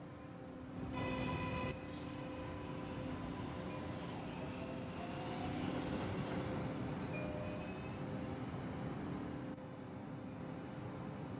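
A commuter train bound for North Station in a game rumbles steadily for the whole stretch, with a brief tonal whine near the start and faint squeals, a loud continuous roar without talk.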